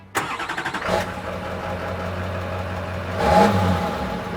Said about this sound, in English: a motor sound in an EV, like a synthesized motor sound